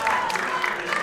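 A crowd at an NWA professional wrestling event applauds a hometown wrestler from Tampa, Florida, during his entrance, a steady wash of clapping and cheering that runs under continuous commentary.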